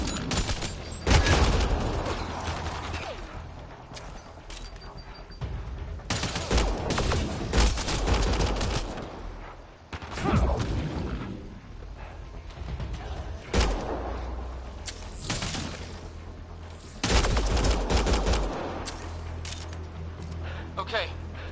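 Gunfire from weapons in the video game Mass Effect Andromeda: repeated loud bursts of rapid shots and volleys in several long stretches, with characters talking and shouting over the combat.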